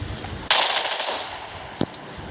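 Gunfire in a video game: one sharp, loud shot with a ringing decay, then a second, fainter and shorter crack about a second later.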